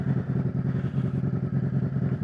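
A 2020 Harley-Davidson Road Glide Special with a Stage II S&S 475 cam idling, a loud, close, lumpy V-twin rumble pulsing steadily with no talking.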